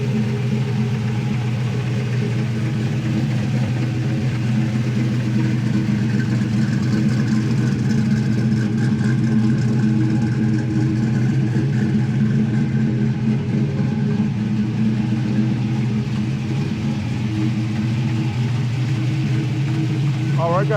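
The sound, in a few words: 1982 K5 Blazer engine running on test drive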